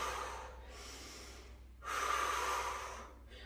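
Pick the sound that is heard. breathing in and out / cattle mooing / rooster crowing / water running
breathing in and out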